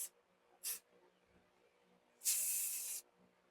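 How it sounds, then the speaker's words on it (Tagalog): Hairspray sprayed onto a hair bun: two short hissing bursts followed by a longer, louder spray lasting under a second, close to the microphone. "Konting spray."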